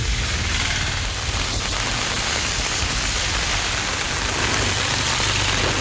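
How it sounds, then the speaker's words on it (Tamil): Heavy rain pours down steadily across a Tamil Nadu area under dark clouds, a dense, continuous hiss of drops striking surfaces at constant loudness throughout, with no voices. "திடீரென கருமேகங்கள் சூழ்ந்து கனமழை கொட்டி தீர்த்தது"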